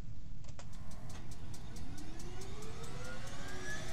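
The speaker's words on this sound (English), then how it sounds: "Oh, what those engines are doing." Engine noise with a low steady rumble and a rising whine, loud and continuous, carries on without speech over it.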